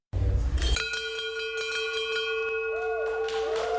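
A bell rung to mark earning the Eagle Scout rank, one loud struck ring that starts sharply and then sustains with a steady metallic hum and fading overtones, close and alone.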